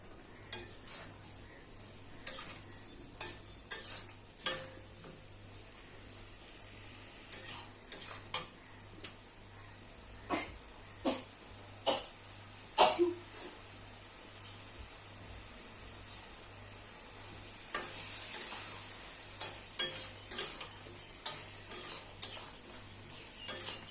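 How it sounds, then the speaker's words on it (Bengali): Spiced masala for a rohu fish curry with potato and eggplant being stir-fried over raised heat, with a steady low sizzle and repeated sharp clicks and scrapes of a spoon against the pan, close and without talk. "এবার ভালো করে কষিয়ে নেব"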